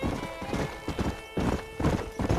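Rhythmic hoofbeats of a horse in Red Dead Redemption clip-clop at a steady trotting pace, close and clear, with the horse whinnying faintly along with them.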